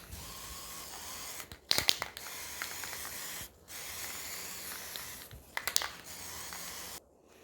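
Primer filler hisses from a spray can onto a 3D-printed clock in close, loud bursts of a few seconds each, separated by brief pauses, with a sharp rattle or click near the start of some bursts.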